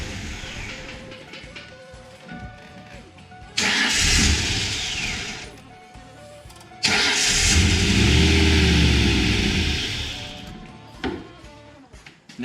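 A car engine with a rough-running fault cranks twice, each start catching into a loud, uneven idle that sputters and fades before dying, with quieter pauses between attempts.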